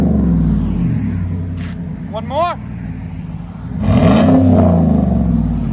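A Chevy Silverado with a 5.3L V8 and aftermarket exhaust rumbles at a low idle, then one sharp rev swells loud and close before settling, with someone speaking briefly in between.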